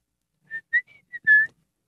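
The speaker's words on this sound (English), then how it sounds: "Can you whistle?" A person whistles a short tune of about five clear notes, the last one held longest, alone in otherwise silent surroundings.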